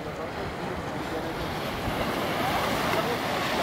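Surf rolling onto Alicia beach in Sosúa, Dominican Republic, a steady broadband wash of waves with wind buffeting the microphone, continuous and fairly loud without a break.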